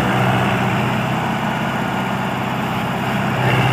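A Sonalika 750 DI 58 hp tractor engine labors under load with a heavy, continuous low diesel drone and dense mechanical noise, close and loud, with no voices.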